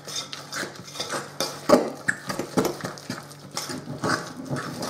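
Protein bread batter with cinnamon being mixed in a bowl, irregular clinks and scrapes of a utensil against the bowl, close and uneven over a few seconds.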